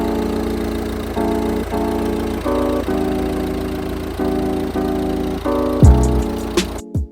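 A 2013 Volvo V40 D2 with a 1.6-litre turbodiesel engine idles up close with a steady diesel rumble and rhythmic clatter, its pitch stepping up and down briefly before a sharp knock near the end.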